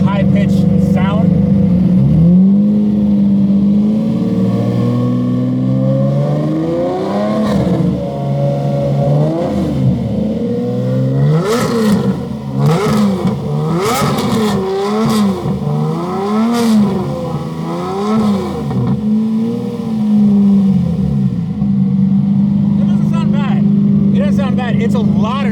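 Lamborghini engine fitted with a straight pipe exhaust, idling loud and steady before repeated sharp revs climbing and falling in pitch, then settling back to a heavy idle, very close.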